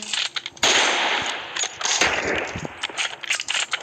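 Gunfire in the battle royale game PUBG: loud, sustained automatic bursts with sharp, rapid cracks that run almost without a break.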